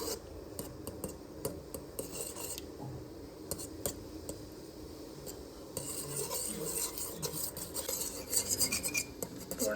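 Flour is mixed by hand in a pot for kele ukdiche modak, giving continuous scraping, stirring and rubbing with light utensil clinks against the vessel, steady and close, with a brief busier stretch toward the end.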